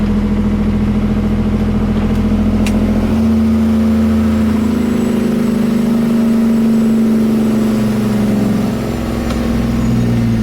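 Truck engine with its jake brake engaged on a hilly road gives a loud, steady low drone that shifts pitch partway through, droning on without any talk.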